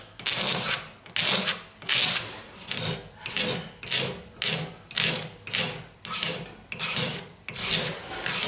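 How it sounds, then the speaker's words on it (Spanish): A hand scraper shaves a wooden frame for a model of the ship La Belle in about fourteen even, rhythmic rasping strokes, each a close, dry scrape, with no talk. "con el raspador, ya le quitamos"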